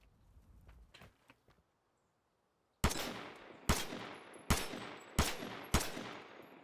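Five sharp, loud gunshots from the video game Vigor ring out at uneven intervals after a quiet stretch of faint background sounds. Each crack is close and has a short echoing tail.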